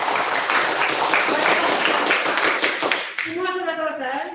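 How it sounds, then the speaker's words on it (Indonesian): A classroom applauds a student group with brisk, close clapping for about three seconds. A teacher's voice then comes in as the clapping stops. "Ya, tepuk tangan untuk kelompok."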